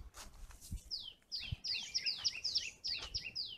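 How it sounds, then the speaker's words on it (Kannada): Birds in Bannerghatta forest call in quick, bright repeated chirps that come in a busy run of short phrases, fairly close and clear over quiet background thumps. "ಪಕ್ಷಿಗಳು ಕೂಗ್ತಕ್ಕಂಥ ಒಂದು ಸೌಂಡ್"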